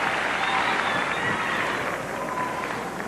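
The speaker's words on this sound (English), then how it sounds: "the crowd goes absolutely wild" Dense, roaring crowd cheering and clapping at an award show, a loud continuous wash of applause and shouts with no break.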